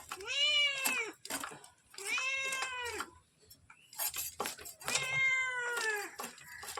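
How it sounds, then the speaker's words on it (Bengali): A cat meows insistently for fish, giving several long, loud, close cries in a row with short gaps between them, and faint clinks of dishes sound in the background. "আমার কথা শুনতে পারবা না, ওর অ্যাও অ্যাও অ্যাও তোমাদের শুনতে হবে।"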